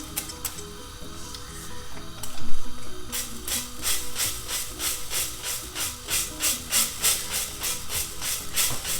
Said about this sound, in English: what I'm going to do is just spray our pan.